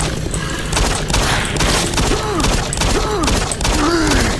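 Pistol gunfire in Doom 3, a steady run of loud shots spaced about a second apart over dense game noise, with creature-like swooping cries between them.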